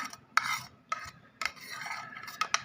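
A spoon stirring and scraping through a chicken tikki mixture with coriander and onions in a bowl, giving soft, quiet rasping strokes with a few sharper clinks, in an irregular rhythm.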